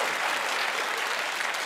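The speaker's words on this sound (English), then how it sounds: "the second round of applause was just plain patronising" A TV studio audience at a comedy panel show gives a short burst of dense, even applause from many people, with no voices over it.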